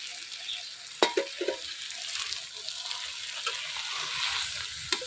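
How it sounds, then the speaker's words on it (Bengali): Small-fish chorchori fries in mustard oil in a village kitchen pan, a steady sizzle broken by a few clinking stirs of a utensil, close and moderately quiet, with no talk. "একবারে ভাজা ভাজা করে দিচ্ছি।"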